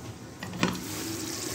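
Half a glass of water is poured into a pressure cooker holding aloo gosht, a brief splash and steady wash of liquid over a noisy kitchen background, close and moderately loud.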